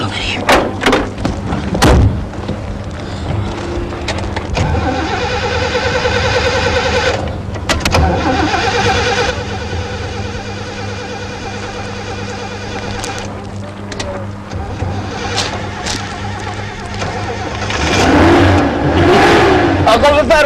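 A car engine, just repaired, cranks and starts, then revs repeatedly in loud rising and falling bursts, with people talking over and between the revs.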